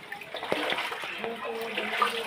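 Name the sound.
floodwater inside a house during rain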